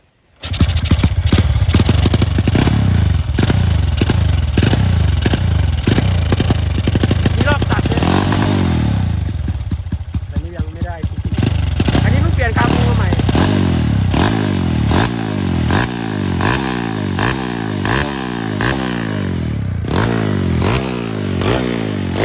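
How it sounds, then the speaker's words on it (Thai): A Honda Wave 125s motorcycle with a Kabu N-Pro 66 mm piston and 5-line cam fires up and runs loud and close, its engine repeatedly revving up and settling in rhythmic surges with mechanical clatter. "เดี๋ยว จะให้เขาสตาร์ทฟังเสียงเครื่องให้ดูครับ"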